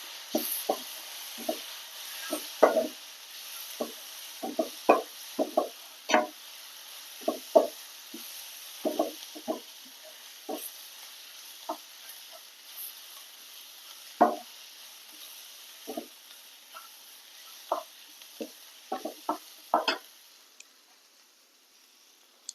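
Egg curry masala is stirred in a pan: irregular scraping taps and knocks from the spoon come one after another over a faint steady sizzle, with no talking.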